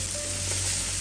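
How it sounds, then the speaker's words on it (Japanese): Carrots, onions and bean sprouts stir-frying in an oiled frying pan, a loud steady sizzle filling the whole moment with no voice. "人参があらかた炒まったら玉ねぎを入れます。"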